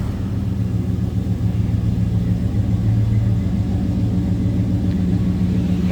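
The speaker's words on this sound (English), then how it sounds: "Nice sounding 350 underneath that hood. A little rumble to it." A 1970 Buick Skylark GS tribute's 350 V8 idles with a steady, low rumble, close and continuous without any talk over it.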